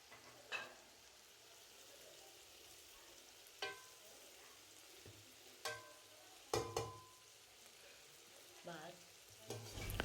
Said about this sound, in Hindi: भिंडी को अच्छी तरीके से मिक्स कर देंगे।